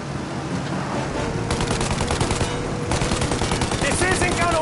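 Rapid automatic gunfire rattles continuously at a plane's engines during a shootout in the video game Mafia: Definitive Edition, loud and dense throughout, with brief voices mixed in.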